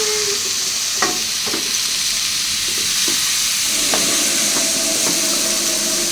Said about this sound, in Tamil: இப்போ நம்ம கட் பண்ணி வச்சுக்கிற தக்காளி சேர்த்துக்கலாம். நல்லா மிக்ஸ் பண்ணிக்கலாம்.